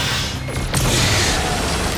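A barrage machine in a video game gives off a loud, continuous mechanical grinding and rumbling hum, with a creaking shift partway through, steady for two seconds with no talk.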